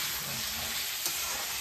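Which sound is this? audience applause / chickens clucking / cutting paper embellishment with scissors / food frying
food frying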